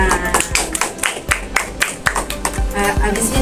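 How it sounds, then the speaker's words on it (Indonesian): Scattered hand claps from students in a micro-teaching classroom lesson, a loose burst of irregular taps continuing for a few seconds at moderate loudness with faint room noise. "Oke, tepuk tangan."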